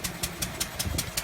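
A Lister D stationary engine runs steadily while driving a circular saw bench, giving a close, even thumping beat about five times a second with a bright clattering edge, no voices.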